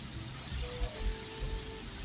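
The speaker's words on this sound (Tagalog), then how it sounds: "Ang lakas ng ulan." Heavy rain pours steadily outdoors with a constant hiss, while a low engine drone runs underneath and nobody speaks.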